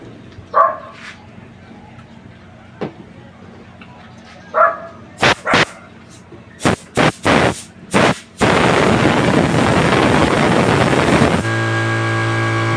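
An oil-free air compressor starts after a series of sharp knocks and runs continuously with a loud, steady broadband roar, then settles into a humming drone.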